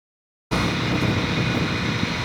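A hydrodemolition machine fires a high-pressure oscillating water jet at up to 20,000 psi through a sub-millimetre nozzle, starting abruptly as a loud, steady roaring blast that continues without letup.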